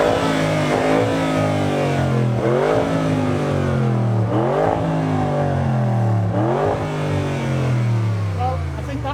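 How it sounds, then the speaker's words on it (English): Engine of a 2021 Audi RS6 C8 Vorsprung, tuned, revved repeatedly in a loud, steady series of rising and falling sweeps, about four climbs over nine seconds, close by with a continuous throaty drone. "Let's hear it rev."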